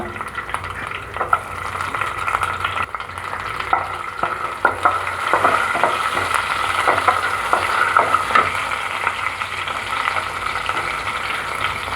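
About ten garlic cloves frying in hot oil in a pan give a continuous crackling sizzle, broken by irregular clinks and scrapes of a spoon stirring, close and fairly loud with no speech.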